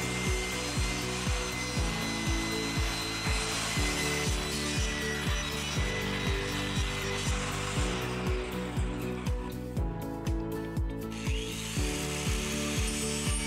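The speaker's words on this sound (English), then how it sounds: "Here I'm using an angle grinder and a wood carving wheel, just carving out a random pattern." Angle grinder fitted with a wood carving wheel power-carving resin river wall art, a loud continuous motor whine broken by rhythmic bursts of grinding and scraping as the wheel bites repeatedly, close and alone.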